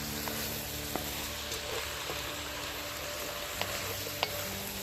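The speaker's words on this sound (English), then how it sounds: "I'm gonna add the chopped onion and the chopped pepper. Simple, right? But trust me, this combo makes all the difference. Stir it around until the onions soften up" Venison, chopped onion and pepper sizzling steadily in a hot pan, with a few light scrapes as they're stirred around, close and continuous.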